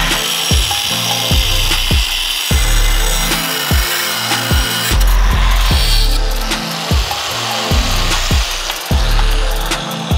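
Saw cutting through the steel housing of a Ford 8.8 solid axle, loud repeated rasping strokes in a steady rhythm, close up with no talk.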